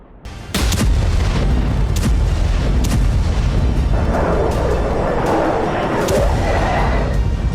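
Gunfire rings out at an armed protest gathering near the Jordan border: several loud, sharp cracks and booms stand out over a dense, continuous din of crowd and outdoor noise.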